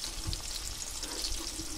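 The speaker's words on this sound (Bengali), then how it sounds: "এখানে পেঁয়াজ আর ক্যাপসিকাম আমি কিন্তু হালকা করে ভেজে নিয়েছি" Onion and capsicum frying in a pan with chopped garlic and ginger, a steady close sizzle with soft crackling throughout, no talk.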